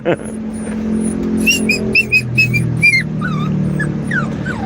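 A puppy whimpers and yips in a string of short high-pitched cries, close by, over a low rumbling background with some talk.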